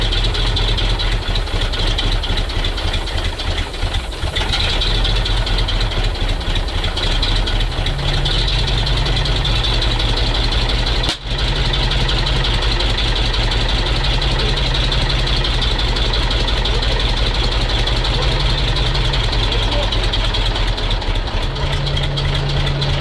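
A MAZ truck diesel engine, started after 15 years stored at a military base, runs loud and steady at a rough idle, with a low rumble, uneven knocking and one sharp pop partway through, without speech.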